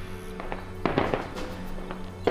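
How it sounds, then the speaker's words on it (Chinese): Firecrackers go off inside iron buckets in a war-film battle ambush, giving sharp popping bangs over a steady background drone, with several quick cracks and a final louder burst. "往铁桶里扔鞭炮这个土方法"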